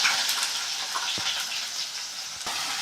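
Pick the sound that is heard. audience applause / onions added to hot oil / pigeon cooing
onions added to hot oil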